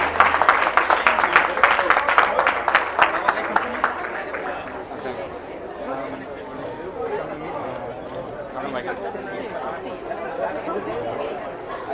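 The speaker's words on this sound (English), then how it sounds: "Can we please get a round of applause for our community leaders who are now taking their lead?" An audience applauds community leaders at a gathering: a burst of many hands clapping for several seconds, then the clapping dies away into steady crowd chatter and murmuring voices.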